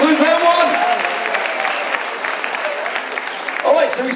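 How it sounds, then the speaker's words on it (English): An audience on the Oasis of the Seas cruise ship applauds contestants during the Love and Marriage game show. Steady clapping runs the whole time while a host's voice and other voices carry over it. "Give them all a round of applause"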